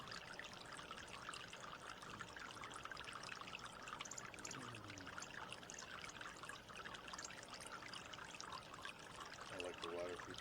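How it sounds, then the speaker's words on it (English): A backyard water feature trickles and splashes in a steady, faint stream, continuous throughout, with soft background noise. "I like the water feature"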